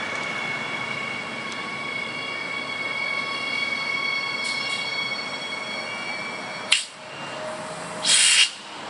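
A train idles at a railway station platform with a steady high hum and tonal whine, then a sharp clunk and a brief hiss of brakes or doors near the end, no talking.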